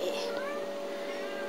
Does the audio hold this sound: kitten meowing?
yes